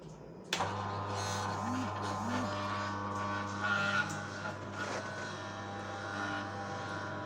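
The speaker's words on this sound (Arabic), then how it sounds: "نبدأ نشغل المكنة." A small 220-volt electric oil press for peanut and seed oil switches on with a click and keeps running with a steady mechanical drone and hum, moderately loud and close.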